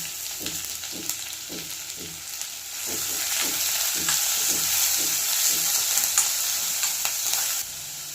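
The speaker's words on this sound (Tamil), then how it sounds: "நல்லா இந்த மாதிரி ஒரு நிமிஷத்துக்கு வதக்கிடலாம்" Onion and capsicum sauté in a hot pan for beetroot rice, a steady close sizzle with repeated soft scraping of stirring that grows denser and louder partway through.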